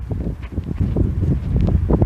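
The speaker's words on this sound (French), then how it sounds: "Voilà, ça souffle." Wind gusting outdoors in a vegetable garden near a small enclosure of broad beans, a steady low buffeting rush that swells and surges continuously on the microphone.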